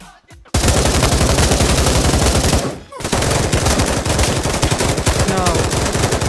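Gunfire from a weapon in the VR video game Pavlov, loud rapid automatic bursts right up close, broken by a brief pause midway before the firing resumes.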